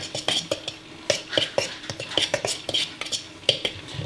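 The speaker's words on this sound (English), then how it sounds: "I'm going to take a fork. I like using a fork here and just kind of" A fork mixes dry cornbread ingredients in a bowl with quick, rhythmic metallic clinks and scrapes against the sides, close and clear, with no talking.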